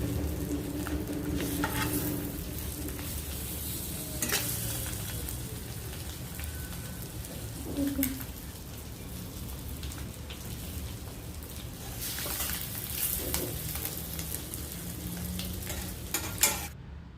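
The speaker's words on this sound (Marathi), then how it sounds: "साधारण 4 ते 5 मिनटं आपल्याला या मसाल्यामध्ये परतून घ्यायचे आहे. मध्ये मध्ये हलवत राहा" Spiced egg masala paste sizzles softly in a pan while a spoon stirs and scrapes through it at intervals, a continuous close-up hiss.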